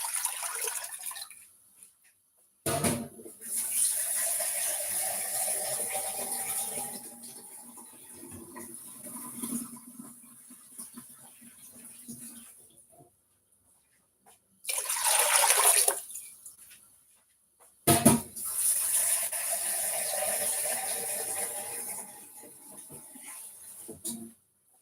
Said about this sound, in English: pour in my water.